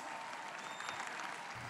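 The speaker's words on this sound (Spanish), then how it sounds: "Ese aplauso no es suficiente para mi Jesús" A church congregation applauding during a service, a dense, even patter of many hands clapping, moderately faint and steady for the brief stretch.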